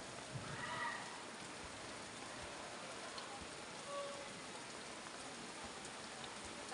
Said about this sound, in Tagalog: Sana po huminto ang ulan.